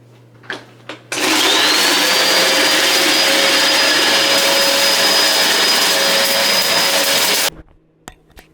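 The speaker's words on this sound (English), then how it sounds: "so I'm about to vacuum" A vacuum cleaner starts up with a click and runs at a loud, steady whine for several seconds before switching off.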